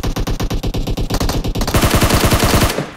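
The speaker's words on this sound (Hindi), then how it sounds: "मेरे को आवाज आ रही कि ऊपर से बंदा गोली मार रहा है" Rapid automatic gunfire in PUBG from an enemy shooting from above, a loud, close burst of evenly spaced shots running continuously for about three seconds with no voices.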